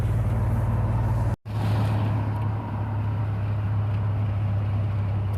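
A neglected 1990 Chevrolet Silverado truck with busted-out windows cruises down the road at speed, its engine droning in a steady low hum with road and wind noise, close and continuous, one short dropout.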